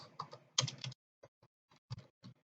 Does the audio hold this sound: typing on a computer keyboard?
yes